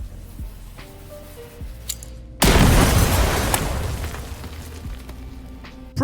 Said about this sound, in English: here we have a sticky grenade